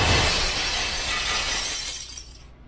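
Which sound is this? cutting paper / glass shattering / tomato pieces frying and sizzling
glass shattering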